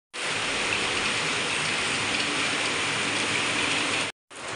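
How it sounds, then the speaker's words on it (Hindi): Heavy monsoon rain pouring down in Mumbai, a dense, steady hiss of downpour that stays loud and unbroken, then cuts out briefly before resuming. "बाहर इतनी बारिश है"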